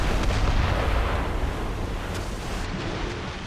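Naval mortar and cannon fire in Assassin's Creed Rogue at sea, heavy booming roar blended with wind and surf, a dense continuous wash of loud low rumble without clear separate shots.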